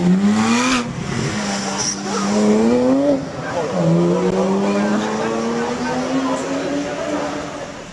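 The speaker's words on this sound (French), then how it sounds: "Du circuit de trappe au volant de la Ferrari F430" A Ferrari F430 on the Trappes race circuit, its engine note rising and falling through gear changes with tire squeal, loud and close, under someone talking.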